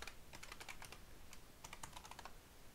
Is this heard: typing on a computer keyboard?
yes